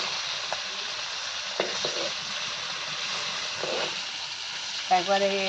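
Koi, magur and shingi fish fry in oil as a steady, dense sizzle with a few soft scrapes and clicks, then a brief voice near the end.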